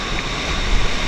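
Big sea waves crash and surge continuously around a small fishing boat off Puro Island, a loud, dense wash of water with steady rolling roar throughout.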